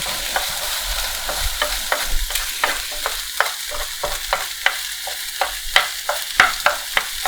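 An omelette is stirred in a hot frying pan on a gas stove, a quiet sizzle underneath a regular series of sharp scraping taps from the utensil against the pan, close and clear, with no voices.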